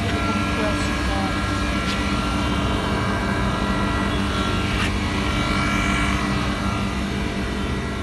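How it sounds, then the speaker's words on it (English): An old Blue Star ductable air conditioner outdoor unit runs its compressor with a steady, loud broadband hum and drone, continuous throughout, with a person speaking faintly over it. "Just listen to the compressor now."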